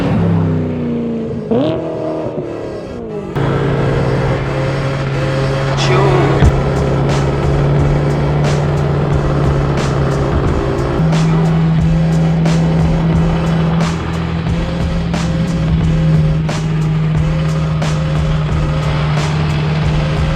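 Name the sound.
BMW M3 with modified exhaust pipe, engine revving and shifting gears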